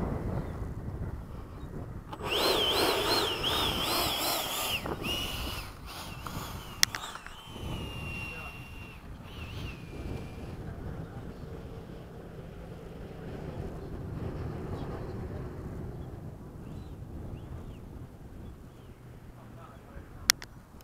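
An FMS 80mm F-5 model jet flies overhead under cloudy skies at a flying field, its electric ducted-fan whine rising and falling in the distance amid wind noise, with a voice speaking over it and a few sharp clicks.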